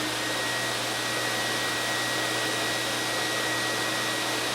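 A vacuum cleaner runs nonstop during a noise test on cloned cats, giving a loud, steady whooshing roar over a low motor hum, with no voices.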